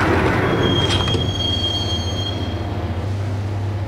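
A train from the Max Payne video game rolls along its rails, a loud steady rumble with a sharp metallic wheel squeal and a brief clatter near the start.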